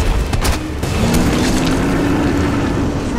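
A gunshot goes off in the Resident Evil 3 Remake survival horror game, a loud booming blast near the start followed by a rumbling, windy ambient drone that fills the rest of the moment.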